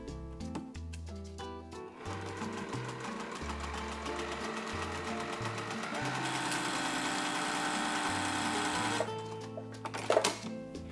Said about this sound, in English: we're going to sew from the inside to the outside.